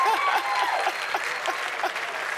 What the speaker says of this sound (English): A big round of applause for the two ladies